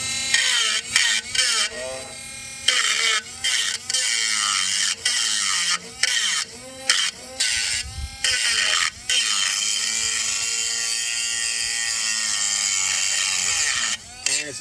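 A cordless battery grinder cuts off seized oxygen sensors on a 1998-2003 Jaguar XJ8, whining loud and close in repeated bursts broken by short pauses, with a long continuous grind near the end.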